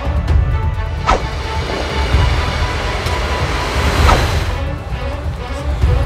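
A train pulls into a station in a video game, a steady loud rumble with a couple of brief higher screeches over it, no talk.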